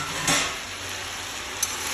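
Mixed vegetables for Bengali panch mishali shukto fry under a lid in a pan, giving a steady soft sizzle, with a brief louder burst near the start and a small click later.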